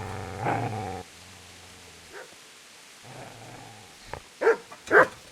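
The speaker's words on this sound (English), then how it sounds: "Get away, you mutt!" A dog in the medieval game Kingdom Come: Deliverance growls low and steadily, then after a lull lets out a few sharp, loud barks near the end.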